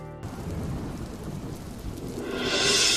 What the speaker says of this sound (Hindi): बाहर कितनी सुंदर बारिश हो रही है